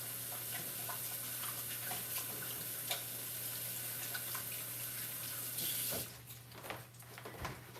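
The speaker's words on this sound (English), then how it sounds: "Let me wash my hands real fast." Kitchen sink tap running steadily while hands are washed, a close constant water hiss with small splashes, then the flow stops and a few soft clatters follow.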